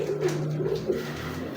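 Pigeons coo with soft, low, throaty warbles that repeat close by in a quick, rolling rhythm, and no voices are heard.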